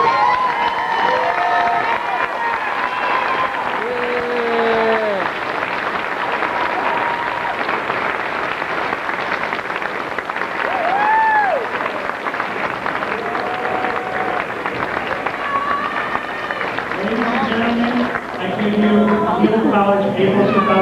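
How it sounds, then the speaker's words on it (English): An audience at a college graduation ceremony claps and cheers for the graduates, a steady crowd roar with scattered shouts and voices over it throughout. "please stand up and give our graduates a round of applause"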